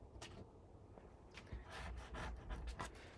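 A folded paper tab on a Halloween treat box is burnished by hand. Quiet, close rubbing strokes repeat in an uneven rhythm and grow a bit fuller toward the end, with no talking.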